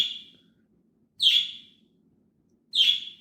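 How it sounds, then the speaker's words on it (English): Pet birds in a home podcast room give three sharp, loud chirps at roughly one-and-a-half-second intervals, each call standing alone against near silence. "our birds want to ruin our podcast"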